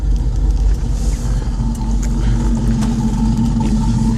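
A 1998 Jeep Grand Cherokee with a 370 stroker engine runs close by, making a loud, steady low rumble that holds evenly throughout without clear revving, and no one speaks.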